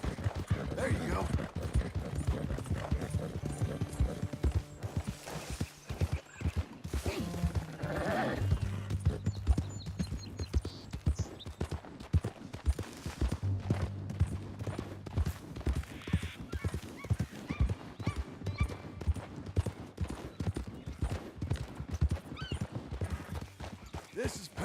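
Steady clip-clop of horse hooves from Red Dead Redemption 2, a continuous rhythmic trot heard close throughout, with occasional snorts and voices talking over it.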